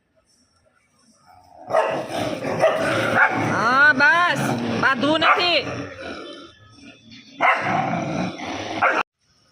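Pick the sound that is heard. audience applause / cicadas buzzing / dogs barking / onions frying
dogs barking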